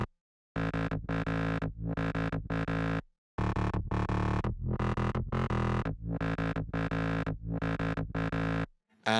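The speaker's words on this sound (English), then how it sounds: "Next, I've got the filter bass, which sounds like this" Distorted synth filter bass from a dance music production plays in loud, chopped rhythmic bursts with short gaps, the sustained gritty tone repeating in a steady pattern and alone without any voice.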